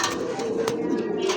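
A pigeon at a pigeon seller's stall gives a short, soft coo that is close but low and sits among background voices and light rustling.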